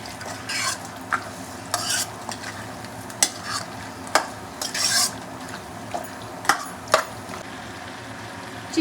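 Kadai chicken stir-fried in a pan with a steady sizzle under repeated sharp scrapes and clinks of a metal spatula against the pan, irregularly spaced and fairly close.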